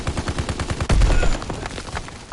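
Bursts of rapid gunfire in the World War II shooter Call of Duty WWII, a steady volley of shots with a heavier, louder stretch of fire in the middle and no talking.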